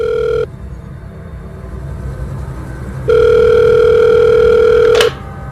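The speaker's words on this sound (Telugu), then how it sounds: "ఫోన్ రింగ్ అవుతోంది." A telephone rings twice as steady electronic tones. The second ring is longer and louder, and a sharp click cuts it off.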